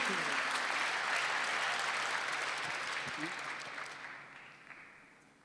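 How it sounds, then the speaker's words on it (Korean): A church congregation at a Sunday worship service claps together in a broad, steady round of applause that gradually thins and fades away over several seconds. "박수로 하시오."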